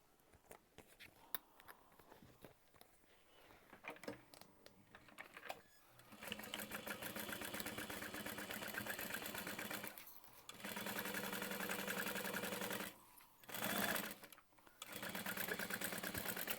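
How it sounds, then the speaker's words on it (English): A sewing machine top-stitches through a bulky seam on an accent panel. Close, steady mechanical chatter comes in several sustained runs, separated by short pauses, with faint handling noises before the stitching starts. "I'm going to top stitch on the accent panel through the bulk of that seam"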